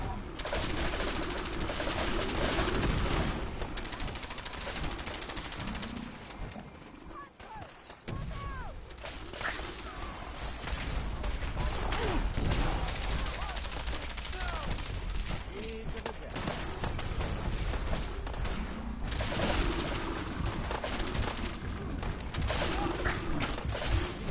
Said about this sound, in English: Fire at will! Watch yourself. Give him some covering fire.